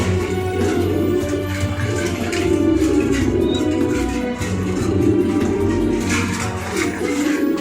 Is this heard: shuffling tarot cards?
no